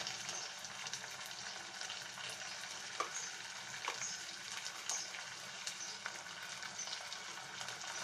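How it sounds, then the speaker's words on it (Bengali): Garlic, ginger and spices fry in oil for a fish roe bhuna, giving a steady close sizzle with a few faint clicks of stirring throughout. "মশলাটা একটু তেলটার সাথে ভেজে নিচ্ছি।"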